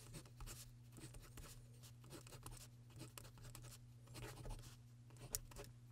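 Wuben Gecko E61 penlight's forever pencil-lead tip scratching across paper, a soft continuous scribbling with short strokes over a faint electrical hum.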